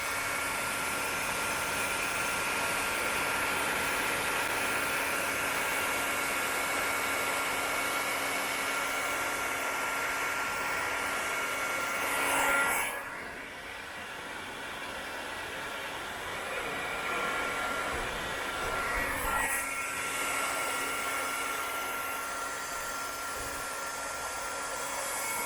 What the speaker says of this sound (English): So we get the heat gun on it and see how much that reduces.